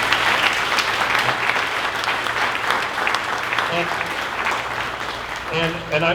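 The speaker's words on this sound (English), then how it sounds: "please give them a round of applause." An audience at a town hall for a national urban park in Windsor, Ontario, breaks into sustained applause, with a voice speaking over the clapping partway through.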